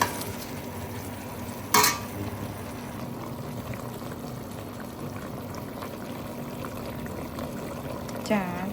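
A spoon stirs reddening food in a cooking pot, with a sharp clank early and another near the end over a steady low simmering hiss.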